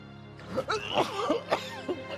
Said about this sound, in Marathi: कधीपासून येतो तुम्हाला खोकला?